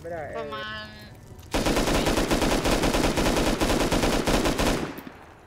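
Sustained automatic gunfire in the survival game Rust, a loud, rapid, continuous burst lasting several seconds, preceded by a brief tonal in-game sound.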